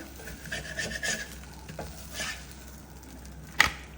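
Coconut dosa cooking on a pan, a faint, soft sizzle with intermittent scraping and rubbing from a spatula, ending in one sharp click, no talk.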